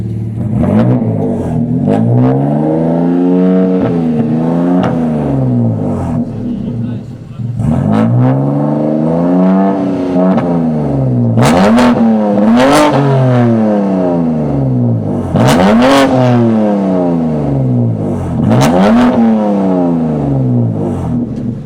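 A motorbike engine is revved hard through the upper rpm range, with repeated rising and falling surges and sharp snarling peaks, loud and close throughout.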